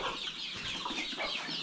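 Village desi hens in a small Konkan backyard poultry pen cluck in a brief, close, continuous chorus, with no talking.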